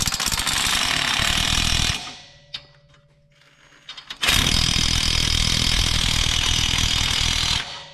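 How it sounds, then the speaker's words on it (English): Ratchet working on rocker arm bolts of an Allis Chalmers road grader engine, heard as loud, dense, harsh rattling that breaks off for about two seconds and then resumes just as strongly. "we will go ahead now and slowly take these bolts out"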